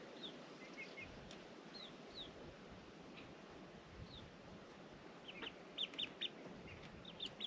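Backyard chickens, big hens settling on a perch with six baby chicks, cluck softly and sporadically, the calls growing louder and more frequent near the end over a light breeze.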